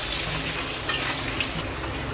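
Potatoes frying in hot oil while mutton kosha is being cooked, giving a steady, dense sizzle throughout with a couple of brief louder crackles and no talking.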